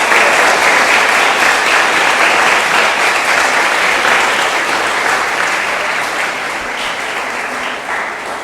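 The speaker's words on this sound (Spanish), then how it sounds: "Un fuerte aplauso" An audience at a university book presentation gives sustained, loud applause, a dense crowd of claps that starts full and slowly tapers off over about eight seconds.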